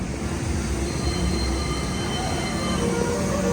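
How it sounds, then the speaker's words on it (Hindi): A local passenger train at a city-centre station in Birmingham, UK, gives a steady, loud rumble of rolling wheels and rail noise that continues throughout, with no talking. "तो ये यूके की ट्रेन है"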